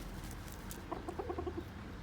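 A rooster gives a short, clucking call of a few quick pulses, moderately close, against a low background rumble.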